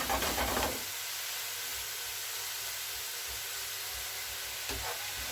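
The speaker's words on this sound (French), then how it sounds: "ça commence à bien revenir les poireaux et les champignons" Leeks and mushrooms sizzle in a pan for a tartiflette tart filling, a loud steady frying hiss broken by a couple of louder stirring bursts, with no voices.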